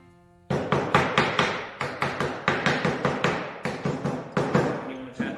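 Hammer tapping wooden dowels down into glued brake shoes for a soapbox derby car, a steady series of about twenty sharp, close knocks in an irregular rhythm with no talking.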